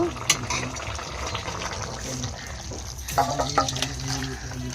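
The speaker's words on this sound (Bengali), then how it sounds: "হয়ে গেছে, উপর দিয়ে ধনেপাতা দিয়ে দেবো। আর ঢেলে নেব।" Chandana hilsa fish curry with potato, tomato and coriander poured out of the pan, a close, sloshing stream of liquid with some gurgling and a faint voice in the background.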